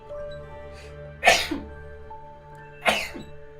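Two sharp, close sneezes from one person, about a second and a half apart, breaking through an otherwise quiet room with a faint background hum.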